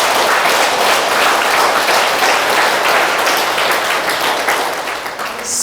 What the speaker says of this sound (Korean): 정말 이 기회에 우리 한번 박수 한번 쳐드립시다.